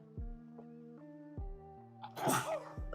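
A single loud sneeze bursts out near the end, over quiet background music with soft low thumps.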